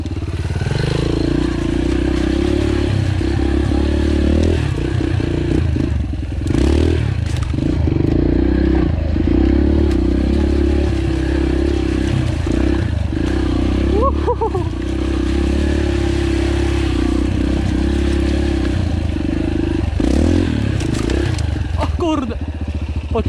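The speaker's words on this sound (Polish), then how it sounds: "To jest stworzony motor do enduro właśnie." An enduro motorcycle rides off-road over boggy, muddy ground on a trail, its engine droning steadily and loudly throughout, with clattering and scraping as the bike works through the terrain, and brief speech over it.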